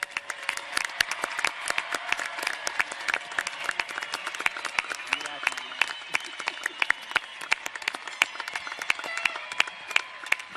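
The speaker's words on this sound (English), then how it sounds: "Round of applause for the class of 2020." A graduation crowd applauds the class of 2020 with sustained, dense clapping from many hands, steady and fairly close throughout, with faint crowd murmur beneath.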